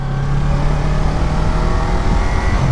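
A 2019 Yamaha R3 motorcycle engine hums steadily while riding along a quiet road, a continuous close drone with a low tone and wind noise that holds even throughout.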